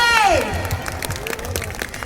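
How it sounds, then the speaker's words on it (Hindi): An audience at a festival star night applauds under a fading musical tone, with mixed clapping and some cheering spread through the crowd, moderate and somewhat distant. "एक बार जोरदार तालियां हो जाए आप सभी के लिए"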